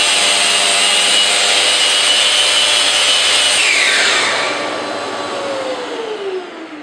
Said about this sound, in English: the harder you press, the more you need to grip the sander to control it.